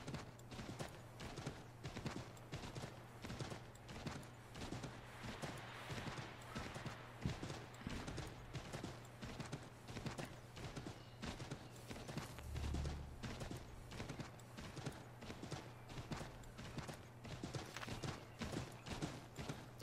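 Steady, rapid hoofbeats of a horse galloping in the video game Assassin's Creed 3, even and continuous throughout, heard faintly with a low hum beneath.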